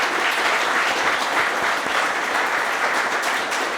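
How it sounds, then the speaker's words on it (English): Dense, steady audience applause at the close of a cybersecurity conference, a continuous wash of many hands clapping with no talk over it. "would like to invite everybody to give a round of applause for all the people who've been involved in organizing the event"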